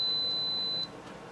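A Frankford Intellidropper powder dispenser gives one steady, fairly loud electronic beep lasting under a second, then cuts off to quiet room tone.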